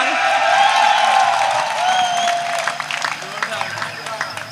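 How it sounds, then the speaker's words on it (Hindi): Audience applause and cheering at a Hindi poetry recital, with a loud wash of clapping that swells at the start and slowly thins out into scattered claps and whoops. "ताली बजाओ जोर से यार।"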